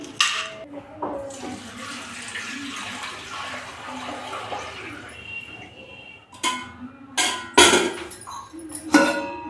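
Water runs steadily from a kitchen tap into a sink for several seconds, then gives way to a few sharp clinks and knocks of dishes being handled nearby.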